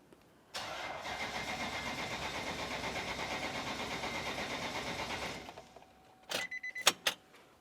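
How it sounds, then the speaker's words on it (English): Starter on a 2004-2015 Nissan Titan cranks the engine in a steady, rapid pulsing churn for about five seconds without catching, then stops, followed by a few sharp clicks and chimes from the cabin. "hop inside the passenger compartment and attempt to start the vehicle"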